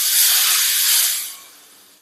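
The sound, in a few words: tempering poured into fish curry, sizzling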